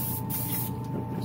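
Steady, close hiss of a spray can of primer coating figure parts, continuous and loud throughout with no pauses and no voices.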